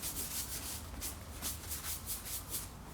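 A cloth rubs quickly back and forth over a surface to wipe away dust before coarse UV putty goes on, in a run of about a dozen soft, rhythmic strokes heard close and faint.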